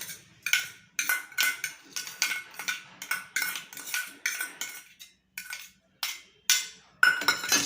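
A spoon scrapes and clinks against a bowl while steamed snake gourd is stirred into curd, about a dozen short metallic strokes in a steady rhythm, close and clear with no talk.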